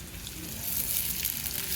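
Poha flakes sizzling in hot oil in a pan for upma, a steady close crackle and hiss with no talking over it.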